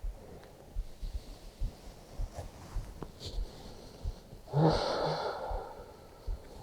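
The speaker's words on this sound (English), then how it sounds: "Listen to the sound of your breath." Soft, slow breathing during a yoga session, quiet and close, with gentle inhales and exhales over faint room rustle and one fuller, louder breath near the end.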